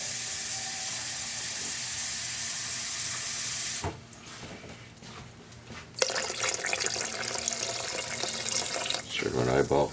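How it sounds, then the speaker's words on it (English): Water runs from a tap to top up a homemade drink after a taste test, a steady broadband hiss that drops away briefly, then returns louder and splashier near the end, with a voice talking over it. "just top this up with a bit more water"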